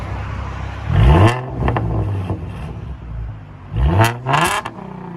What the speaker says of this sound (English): the X pipe equalizes the back pressure and takes a little bit of the rasp away, as you guys can hear